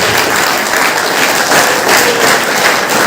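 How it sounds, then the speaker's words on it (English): An audience at a motivation session breaks into loud, dense clapping, a continuous even roar of many hands lasting a few seconds. "he deserves a big round of applause"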